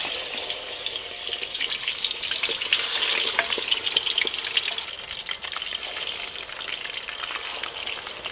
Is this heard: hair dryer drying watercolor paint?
no